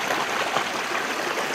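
Water streaming and trickling through rock cracks and crevices near Kirimutti Ella waterfall in Sri Lanka, a close, steady broadband rush with fine gurgling texture and no voices.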